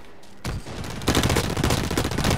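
Gunfire in the first-person shooter Blacklight: Retribution: a short lead-in, then loud sustained automatic bursts that grow denser and heavier after the first second, with no speech.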